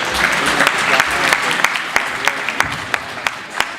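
Crowd at a county FFA alumni livestock show claps for a champion heifer, a continuous roll of applause with a few sharp, louder individual claps standing out near the microphone.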